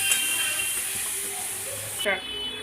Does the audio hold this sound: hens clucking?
no